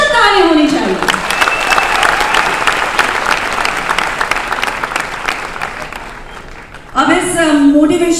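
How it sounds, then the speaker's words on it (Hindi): Audience applause fills a Hindi-language event hall with loud, sustained clapping that runs for about six seconds, framed by someone speaking just before and right after it. "इन सभी के लिए स्पेशल ताली होनी चाहिए।"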